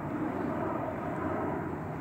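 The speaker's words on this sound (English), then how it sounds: "Okay, you can still see the airplane." Airplane passing near Portland International Airport, a continuous broad engine roar holding steady throughout, fairly loud and without talk.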